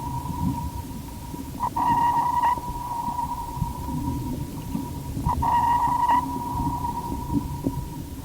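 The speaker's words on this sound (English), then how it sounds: "man uses sonar, sound navigation, and ranging to search the depths" Two sonar pings sound a few seconds apart, each a clear sustained tone over a low, rumbling underwater background, searching the depths of the sea.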